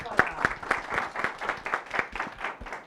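A small audience at a conference session on cash transfers claps in a sparse, evenly spaced rhythm, each clap sharp and distinct, close by and steady for a few seconds.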